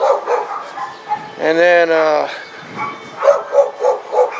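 Dogs bark in a loud, harmonic burst in the middle, with shorter yips and bark-like bursts scattered around it, all mixed with someone talking nearby in a garage.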